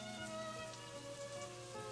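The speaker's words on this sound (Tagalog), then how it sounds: "hintayin na lang natin matapos ang ulan bago umuwi" Rain falls in a soft, steady patter, faint and continuous, over a quiet humming background tone.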